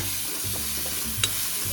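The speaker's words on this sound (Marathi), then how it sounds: "थोडासा मसाला फ्राय झाला आपला फोडणीचा" Masala spices sizzle in hot tempering oil for a prawn dish, with a steady close crackle, stirring scrapes and one brief sharp clink, no voices.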